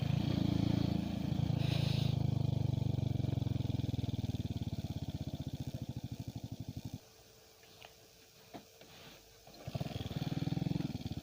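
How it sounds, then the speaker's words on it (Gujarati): A motorcycle engine during stunt riding holds a steady, buzzing rumble, then drops to a lull before revving back up near the end. "આપણે બાઇક પર સ્ટન કરી જોઈએ."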